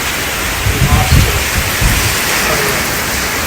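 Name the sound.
water running outside during Hurricane Milton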